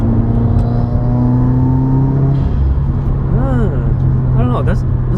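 A Subaru WRX engine revs loudly up close, with sharp pops and crackles from the exhaust and some voices underneath.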